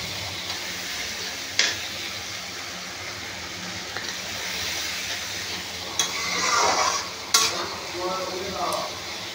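Bangladeshi-style chicken curry sizzles in a pan after a water mixture goes in, a constant hissing fry with a few sharp scraping stirs of a spoon, close and steady, no voices.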